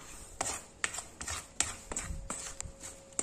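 Fish bait dough for carp, being mixed by hand in a bowl, giving a series of sharp, irregular knocks and slaps, close and fairly quiet, with no talk.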